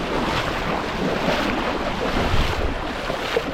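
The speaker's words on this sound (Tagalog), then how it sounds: "Lakas ng agos naman pala dito." Strong river current rushes steadily in a Philippine stream, a continuous broadband wash of flowing water with wind buffeting the microphone, close and fairly loud throughout.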